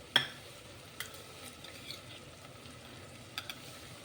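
Chopped ingredients for tomato bath fry with garam masala and chilli powder, a faint, even sizzle with occasional light clicks of a spoon stirring in the pan, no voices.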